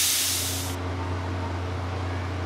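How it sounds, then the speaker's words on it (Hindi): A pressure cooker vents steam after cooking masoor dal for a pakora curry, a continuous close hiss that is brighter and sharper at first, then settles into a steady rushing release with no talk. "गैस को अच्छे तरीके से खारिज होने दें।"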